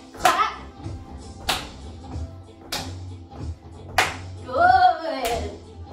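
Children clapping hands in a hip hop dance class: a few sharp, separate claps spaced about a second apart, with a voice speaking and calling out between them over soft background music.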